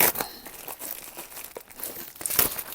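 Sealed plastic parcel bags from an AliExpress order crinkle and crackle close up as they are handled, in a steady stream of rustling with a few louder crunches, no talking.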